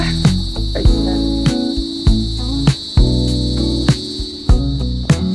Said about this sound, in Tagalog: And sobrang daming kuliglig.